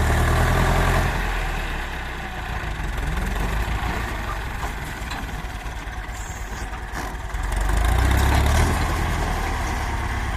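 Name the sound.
farm tractor engine running loudly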